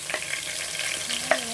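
Onions fry in a pan with a constant, fairly loud hiss close by, and a few light stirring scrapes and one sharper clink partway through, with no talking.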